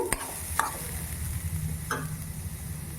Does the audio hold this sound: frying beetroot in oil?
yes